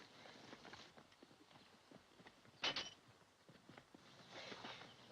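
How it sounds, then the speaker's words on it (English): Quiet, irregular clip-clop of horse hooves on hard ground in a 1948 film, several animals moving at a distance, with one sharper knock partway through. "Those are our horses."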